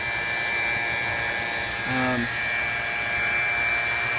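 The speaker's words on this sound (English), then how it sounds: "let me get it all hooked up, and I'll show you how fast I can pull a vacuum" A vacuum pump pulls a vacuum on refrigerant lines, giving a steady, loud continuous hum and whine with no pauses, heard alone throughout.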